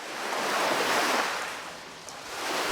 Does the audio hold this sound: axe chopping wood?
no